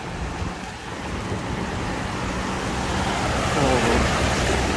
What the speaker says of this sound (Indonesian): hujannya ini cukup deras banget ini hari ini